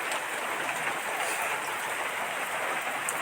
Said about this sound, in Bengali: কুড়ি কুড়ি বৃষ্টি হচ্ছে দেখেন